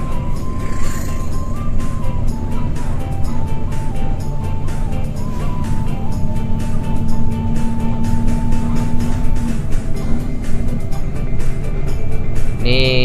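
Buses and cars pass along a dark, unlit stretch of the Trans-Sumatra road heading toward Minang, a constant loud rumble of engines and traffic with a horn-like tone near the end.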